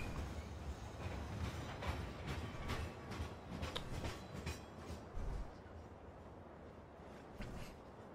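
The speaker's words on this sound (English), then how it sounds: "we'll send off the train, and then let's see what happens" A train rumbles and clatters along the rails in Farming Simulator 15, a continuous rolling noise with rhythmic clacks, moderately loud, no voices.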